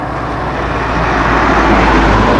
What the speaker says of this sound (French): Attention la voiture. Voiture.